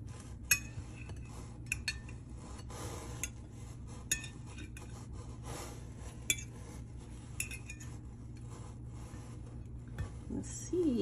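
Metal utensils scrape and clink against a plate while food is plated, with light scattered taps and rubs over a quiet kitchen background.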